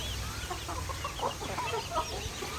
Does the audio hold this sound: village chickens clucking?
yes